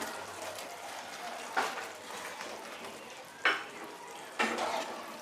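Soybean pakoras are stirred in a pan after a splash of water, a soft simmering bubble underneath with three distinct scraping strokes of a spoon spaced a second or two apart.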